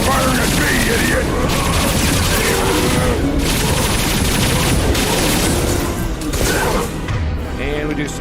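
Bursts of rapid gunfire and heavy impacts fill a Mass Effect 2 firefight, dense and loud throughout, with crashing booms layered over a steady din.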